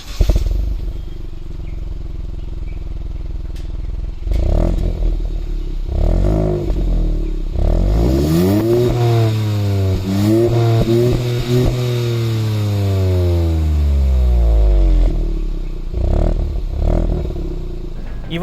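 A Hyundai Venue N Line revs and accelerates, its engine note rising and falling in repeated sweeping pulls with a raspy exhaust edge, loud and close, with brief clattering noises between runs.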